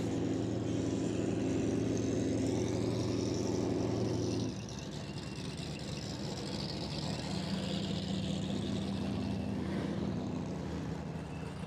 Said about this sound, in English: You can hear the engine.